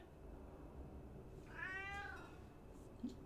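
A cat meows once in a drawn-out call during a PUBG game session, fairly clear over a steady low background hum.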